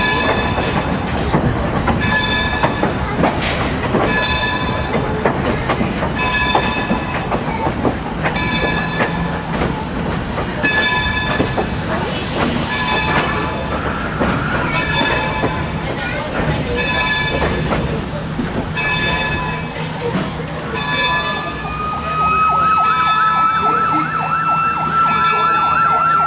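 Steam engine 26 moving through the railroad yard at Steamtown in Scranton, Pennsylvania: a continuous loud rumble of wheels and rolling stock with metallic squeals and clanks, and a sustained high whistle-like tone near the end.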